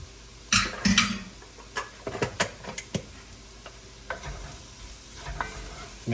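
Vegetables and about two tablespoons of flour stirred in a pan for meal prep, with scraping stirs and soft sizzling; a cluster of louder strokes early on, then lighter intermittent stirring over a steady low fry, no talk.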